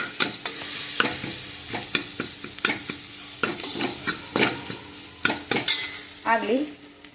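Sambar powder frying in a pan while being stirred, with a low sizzle under repeated sharp scrapes and clinks of a spatula against the metal pan, coming in an uneven rhythm.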